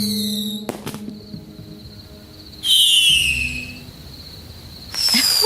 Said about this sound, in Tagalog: Ang ganda ng fireworks, ha?